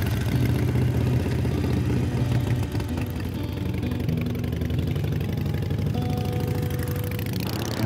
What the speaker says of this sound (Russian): наслаждаясь фирменным звуком и вибрациями Харли Дэвидсон